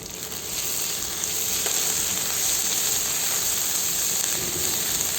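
Finely chopped garlic and chilies sauté in a hot pan for Mexican chilaquiles, giving a continuous dense sizzle and hiss that holds steady and close throughout, with no voices.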